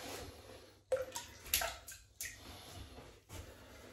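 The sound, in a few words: shaving brush being wetted with warm water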